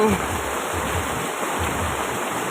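Rainwater flowing and rushing after prolonged rain, a continuous loud wash of water noise with a steady high tone running throughout.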